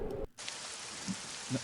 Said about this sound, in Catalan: se sent la pluja caient sobre la teulada.